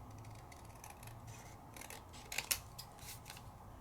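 Scissors cut freehand around rice paper with soft close snips and rustles, building to a few sharper clicks of the blades near the end.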